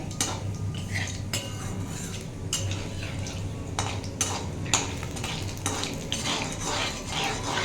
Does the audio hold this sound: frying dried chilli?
yes